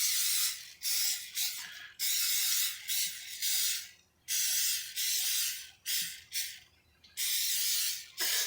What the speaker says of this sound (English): But I like to use good old spray.